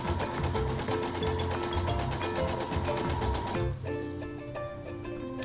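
Embroidery machine stitching an applique halter-top bodice onto a character design, a fast, even mechanical chatter that runs loud and steady, then drops to a lighter, quieter hum with ticking near the end.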